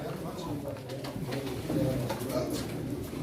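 Pigeons coo softly amid a noisy crowd at a pigeon auction in a Turkish market, with steady background chatter and bidding bustle throughout.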